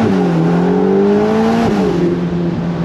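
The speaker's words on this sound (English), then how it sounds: "Little acceleration here." A Ferrari Portofino M convertible with a 620-horsepower engine accelerates, a loud steady engine drone rising in pitch, dipping briefly at a gear change, then climbing again, heard from inside the car.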